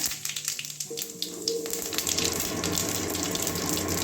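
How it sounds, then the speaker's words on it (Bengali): White cumin seeds dropped into hot oil for a vegetarian taro-leaf dish, bursting into a loud, rushing sizzle that starts abruptly and holds steady with crackles throughout. "তেল গরম হয়ে গেছে এবারে আমার কালো জিরে নেই যার জন্য কালো জিরে শেষ হয়ে গেছে ওই জন্য সাদা জিরে দিচ্ছি ফোড়নে"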